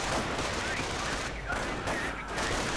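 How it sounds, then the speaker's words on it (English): Dense video game gunfire as a Panzer unit is gunned down in a 1v1 strategy battle, a steady wash of rapid shots and battle noise with a faint voice underneath. "Rather than getting burned alive though, Panzer is getting gunned down."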